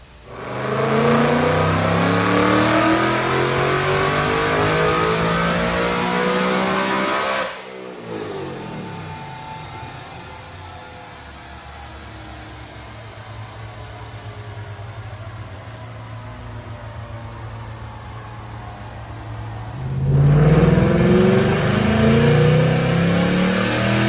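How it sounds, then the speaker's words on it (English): A supercharged 2006 Mustang with a swapped-in 5.0 Coyote V8 revs hard on a dyno, the engine roaring loudly, dropping back, then climbing into another loud pull near the end. "Let's go check out this dyno pull."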